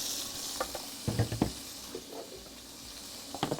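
Meat with fatty bits frying in a hot pan for Korean bibimbap: a steady close sizzle broken by a few sharp clacks and scrapes of stirring, with no talking.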